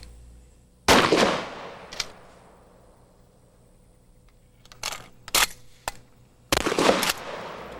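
Shotgun firing conventional rounds, law-enforcement ammunition demonstration: a loud close blast at about one second with a long decaying echo, then a cluster of sharp reports near five seconds and another heavy blast near six and a half seconds.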